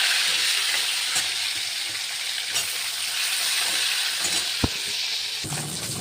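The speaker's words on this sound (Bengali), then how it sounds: "এবার কড়াইতে তেল গরম করে নিচ্ছি, মাছগুলো একে একে লাল লাল করে ভেজে নেবো।" Pieces of latha fish fry in hot oil in a wok, giving a steady, close, continuous sizzle with no voices and a single brief click near the end.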